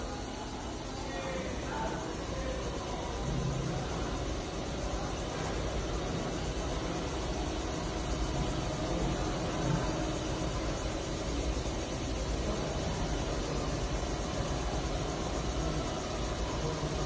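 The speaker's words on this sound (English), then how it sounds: "This is the first valve seat we've cut on the SG61HP, the Ford V8 tri-valve." A Robins SG61HP seat and guide machine cuts a valve seat in a Ford V8 tri-valve cylinder head, giving a steady, continuous machining whir and hum with some broadband noise, at moderate distance throughout.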